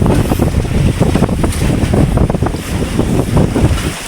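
Strong wind buffets the microphone in loud, rumbling gusts on a tuna fishing boat at sea, with a churning water-and-engine wash underneath.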